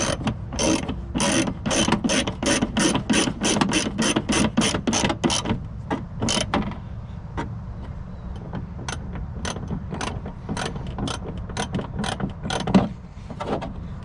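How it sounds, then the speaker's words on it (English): Rapid ratcheting clicks from a hand tool driving metal screws on a Toyota 4Runner's rear mud flap area, fast bursts at first, then slower, spaced clicks near and clear. "Now tighten down your metal screws."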